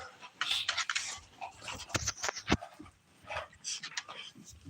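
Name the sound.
dog panting and whimpering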